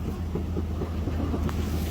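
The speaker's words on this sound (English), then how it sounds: "Another one of those ghost trains." Train rolling past in a forest with a steady low rumble and clatter, moderately loud and continuous, no talking.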